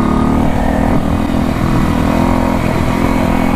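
A 1968 Harley-Davidson motorcycle out on a road test, its engine droning loud and steady up close with a continuous rumbling throb as it runs through the gears.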